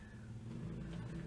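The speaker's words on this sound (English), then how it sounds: "He just wants to see how many times he can rev his little bike for his scrawny mates." A small motorbike engine hums and revs faintly out in the street, a low steady drone heard at a distance without talk.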